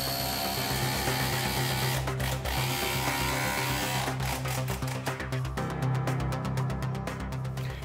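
A power drill drives a number 10 2.5-inch flathead screw through a strike plate into the structure during a moving glass wall installation, giving a continuous close mechanical whir with rapid ratcheting clicks toward the end.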